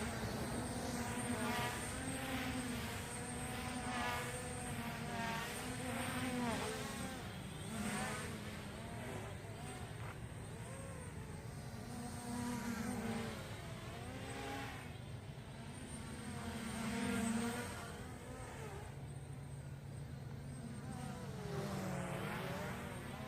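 A JJRC X1 quadcopter drone flies at night, its propellers making a continuous buzzing whine that rises and falls in pitch as the motors speed up and slow down, steady and fairly close throughout.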